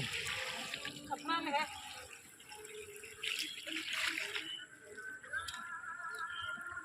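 Water poured onto a rooftop, splashing and running on the hard surface, with children's voices and chatter over it.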